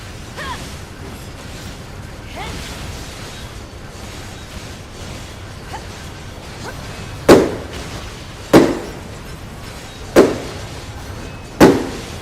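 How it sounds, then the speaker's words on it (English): Fireworks burst close by in a video game, with faint pops early on and then four loud, sharp bangs spaced a second or so apart, each with a short decaying tail over a low steady background. "It's fireworks. It's the fireworks."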